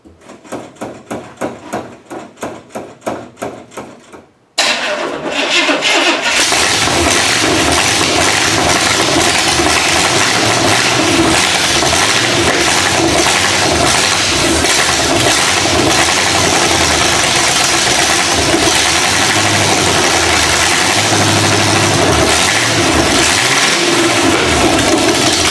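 A car engine, on a project vehicle with a home-made drive shaft, cranks in rapid rhythmic bursts for a few seconds, then catches and runs steadily and loudly up close for the rest of the time.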